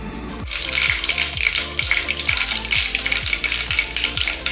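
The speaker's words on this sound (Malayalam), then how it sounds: "കടുക് ഉലുവയും പൊട്ടി കഴിഞ്ഞിട്ടുണ്ട്." Mustard seeds and fenugreek spluttering in hot coconut oil for a Kuttanadan fish curry: a steady, loud sizzling hiss starts abruptly and continues, broken by a regular run of sharp popping crackles.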